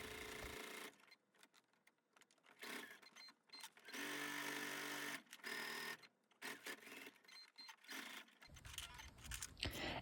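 Sewing machine stitching down all four corners of a self-binding quilted hotpad, heard in several short bursts of running stitches separated by pauses and small handling clicks, fairly quiet and close, with no talking.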